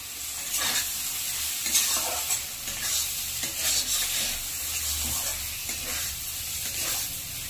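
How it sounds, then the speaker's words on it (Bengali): Chopped tomatoes and green chilies frying with spices in a pan for a light fish curry, a continuous sizzle broken by regular scraping stirs of a spatula, close and steady with no voices. "টমেটো আর লঙ্কাটা দেওয়ার পরে মশলার সাথে আরো 2-4 মিনিট ভালো করে কষে নিয়েছি।"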